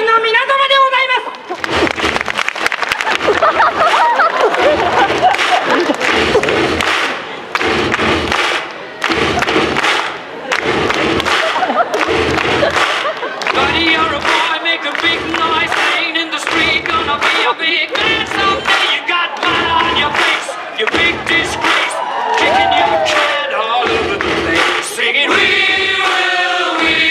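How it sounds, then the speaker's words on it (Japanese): Audience at a stage event in Nagoya greeting a costumed samurai warlord performance troupe, with loud crowd noise and cheering mixed with shouts, thumps and music, and voices over it. "大きな拍手でお迎えください"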